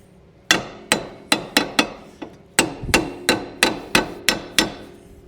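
About a dozen sharp brass hammer taps on a Honda Civic, striking in an uneven rhythm, each tap ringing briefly, close and clear with no talk.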